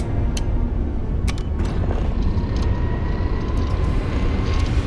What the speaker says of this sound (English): Spooling the grav drive.